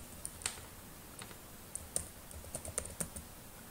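Computer keyboard typing in short clusters of crisp keystroke clicks, close and quiet, with no speech.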